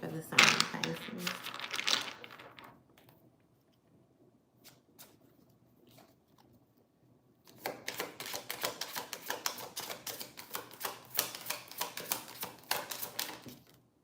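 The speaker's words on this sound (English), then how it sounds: "I'm going to cut the deck and get into it" Tarot cards are shuffled and cut, first as a fluttering riffle, then after a quiet pause as a long run of quick, crisp card snaps and taps, close and fairly loud.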